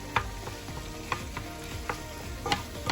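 Minced meat is mashed into vegetables for a vegetable gratin, a string of soft squelching presses and scraping clicks at an uneven rhythm, close and moderately quiet.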